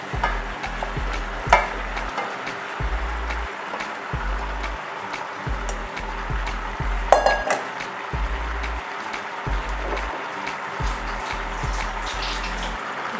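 Scallion, green peppers and okra stirred in a pan for Jamaican curry shrimp, with repeated scraping spoon strokes and clinks over a soft continuous sizzle, fairly faint and close.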